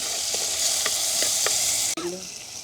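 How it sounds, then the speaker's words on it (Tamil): Onion, green chilli and curry leaves sauté in a pan for a crab dish, giving a steady close sizzle with a few light stirring scrapes and a brief clatter near the end. "வெங்காயம் பச்சை மிளகா வதங்கிட்டுது."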